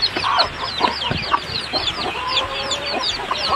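Day-old chicks in their first week or two on a farm peep in a dense, continuous chorus of high, overlapping chirps, close and fairly loud, with no talking.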